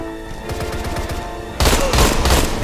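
Thompson submachine gun firing in the Deadfall Adventures video game, rapid automatic bursts rattling close and loud, growing heavier and denser in the final second, with no talk.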